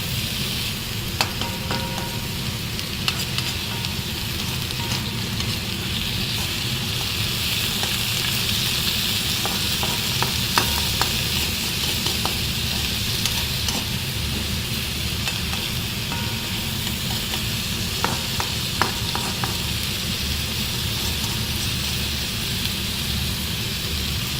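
Dried fish fries uncovered in a pan for an Assamese dried-fish chutney, giving a steady, dense sizzle with scattered crackles and occasional stirring clicks throughout.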